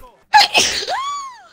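A single sneeze, sharp and close, with a rising breathy tail, heard alone with no talk during a Red Dead Redemption 2 gameplay session.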